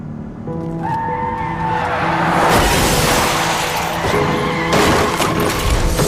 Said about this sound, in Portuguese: O carro capotou.